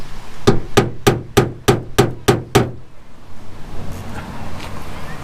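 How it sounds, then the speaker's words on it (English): A hammer strikes a small drill bit to punch a center mark while installing a hood strut on a second-generation Toyota Tacoma: eight sharp, ringing metallic taps in a quick, even rhythm, then a softer, lingering background hum. "whack with the hammer, and now my drill bit will be a little more centered"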